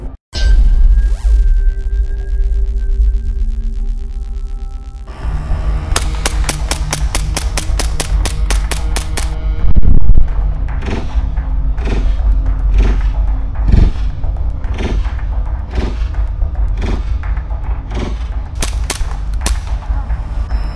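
KWA airsoft guns, an RM4A1 ERG with kinetic feedback and an HK45, fire outdoors in a long run of rapid, evenly spaced sharp cracks, with shorter bursts and single shots later, all loud and close.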